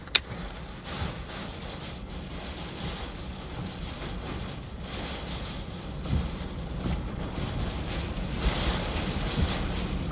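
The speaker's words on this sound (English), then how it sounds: "Here we go, big wind." Strong wind at the leading edge of a severe storm in the Corn Belt, roaring as a continuous, heavy buffeting rush against a vehicle with gusts building toward the end, no voices.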